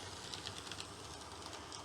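A model diesel locomotive runs along the track during shunting, giving a quiet, steady mechanical whir with faint repeated clicks from the rails.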